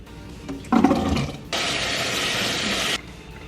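Bean liquid pours off through a kitchen strainer, first a short splashy clatter, then a steady rushing stream of water draining for about a second and a half before stopping abruptly.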